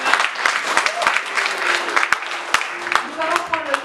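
Congregation at a church service clapping together in a dense, lively burst of applause that fills the room throughout, with voices mixed underneath.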